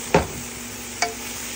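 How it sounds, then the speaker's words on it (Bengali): Broccoli cooking in a pan is stirred with two quick scraping strokes over a soft, steady sizzle. "এখন আবার একটু নেড়ে চেড়ে দেব, দেখি কি অবস্থা হয়েছে।"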